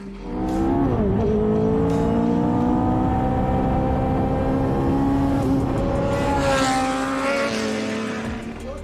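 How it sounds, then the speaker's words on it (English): A Lotus race car engine running at the Lotus factory, loud and close, its tone dipping at a gear change, then rising steadily and shifting again before easing slightly at the end. "Sound, the engine, steering wheel, the changing gears, fantastic feeling, fantastic."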